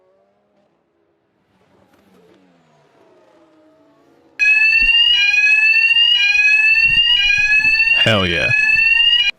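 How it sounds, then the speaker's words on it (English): A building fire alarm suddenly starts blaring, loud and steady with a piercing pulsing tone, after quiet racing-game engine sounds. Someone speaks briefly over it near the end. "Don't set off the fire alarm in my building."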